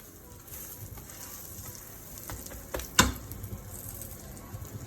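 Jerk chicken sizzles steadily in an oiled pan, a close, even frying hiss with one brief clatter partway through.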